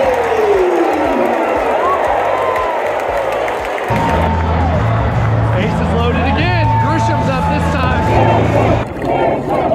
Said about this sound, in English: Just listen to these chants.